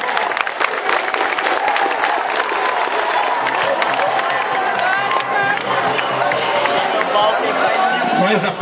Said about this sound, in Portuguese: Aplausos para a Prefeitura e aplausos para a Secretaria de Esportes e Governo